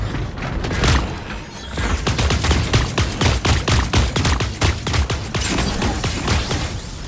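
Rapid bursts of video game gunfire from Super Mecha Champions crack out in a steady automatic rhythm for several seconds, loud and close, with no voices.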